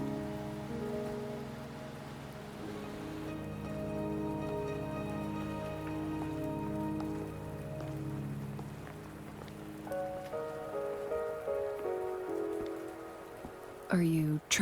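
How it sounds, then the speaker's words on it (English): Steady rain falls across a scene in the video game Wuthering Waves, a continuous close patter on surfaces beneath sustained musical tones, ending with a brief sharp sweep. "Are you trapped here by the rain?"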